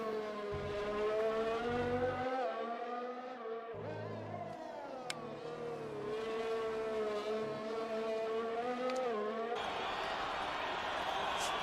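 An F1 car engine from the F1 2020 racing game at the Hungarian GP, cruising on an out lap: a sustained tonal whine that rises and falls with the revs under continuous commentary.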